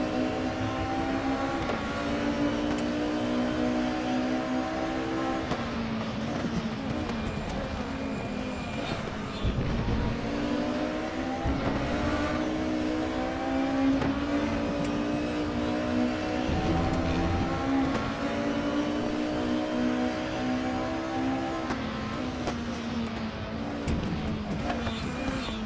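Several racing engines in the game RaceRoom roar and rev continuously during an online race, pitch sweeping up and down through gear changes as cars accelerate, loud and close throughout.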